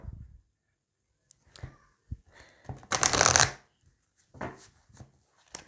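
Oracle cards being shuffled by hand in short riffling bursts, with one loud sustained shuffle in the middle and softer flicks before and after, close up and with no talking.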